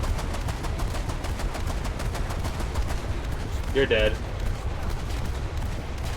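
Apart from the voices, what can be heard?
naval gunfire in video game War Thunder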